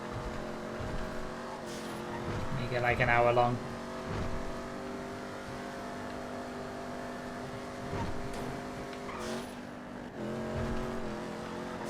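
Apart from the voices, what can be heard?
race cars driving in GTA FiveM video game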